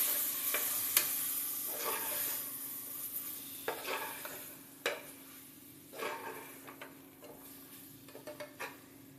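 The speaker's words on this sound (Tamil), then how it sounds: "தயிரை போட்டு நல்லா வதக்கிக்கலாம்." Fresh curd sautéing in a pan for mutton kulambu, a soft steady sizzle beneath repeated spoon strokes scraping and knocking against the vessel, close and moderately quiet.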